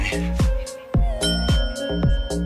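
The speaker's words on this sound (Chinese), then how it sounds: "叔叔又按响了铃铛" Hector Salamanca's small desk bell in Breaking Bad dings sharply about five times in a halting rhythm, each strike ringing on with a clear sustained tone, close and loud with no talk.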